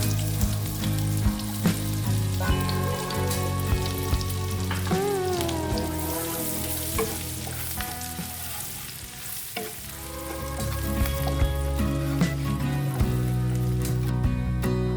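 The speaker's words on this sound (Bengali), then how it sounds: "চিকেন ভাজার পর এবার ওই তেলে প্রথমে দেব রসুন কুচো।" Chopped garlic fries in the oil left after frying chicken for Bengali chili chicken, a continuous crackling sizzle with stirring scrapes, close and steady over soft background music.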